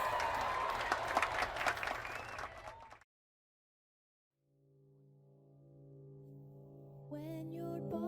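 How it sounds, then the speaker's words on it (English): Applause and cheering from a crowd for a few seconds, then sudden silence followed by a sustained tonal musical sound rising in. "round of applause for the boys."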